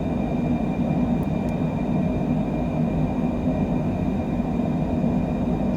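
Airliner jet engines roar steadily during the climb just after takeoff from San Diego, a loud continuous rumble with constant whining tones heard from inside the aircraft, with no talking.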